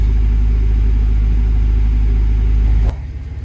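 A Doosan DX62 excavator's diesel engine runs loud and steady up close, then is switched off near the end, the rumble dropping sharply to a fading low hum.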